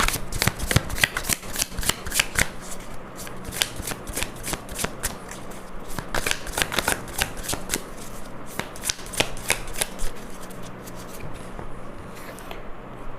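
Tarot cards being shuffled by hand, a long run of crisp, rapid riffling bursts and flicks, close and clear with no talking.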